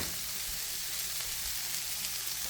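Onions and peppers fry in a pan with a loud, dense, continuous sizzle that holds steady throughout, close up and with no voices.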